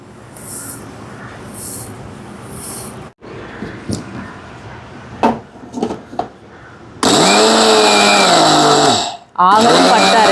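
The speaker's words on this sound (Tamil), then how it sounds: "இந்த எள்ளை அரைச்செடுக்க போகிறேன்னு பாருங்க. மிக்சி கப் இப்படி ஈரம் இல்லாமல் இருக்கணும்." A mixie cup grinding sesame seeds runs in two short loud bursts with a brief pause between them, after quieter handling clicks and taps at the start.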